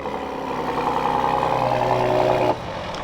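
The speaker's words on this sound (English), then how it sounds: "this has the dual exhaust, which we can take a listen to" A 2023 Ford F-150 Raptor with dual exhaust runs with a deep exhaust rumble that swells steadily, then drops abruptly to a quieter idle near the end.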